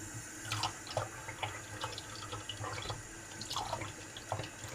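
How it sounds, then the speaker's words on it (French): A small amount of water is poured into a pan while making caramel at home. Faint splashing and trickling comes in intermittent bursts over a low background hiss, with no talk. "Par là, mettre 2 cuillères à soupe d'eau"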